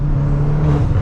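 A Stage 3 tuned VW MK8 Golf R, a turbocharged car of about 535 hp, revving: a loud, close, continuous low engine drone with rising turbo whir, brief and unbroken.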